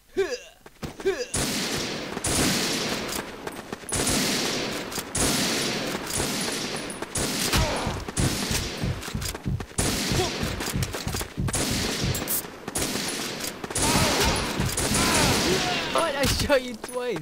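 Rapid bursts of gunfire from the online shooter WarRock in a free-for-all match, dense volleys and single shots crackling loudly almost throughout, with a player's voice talking over the fighting.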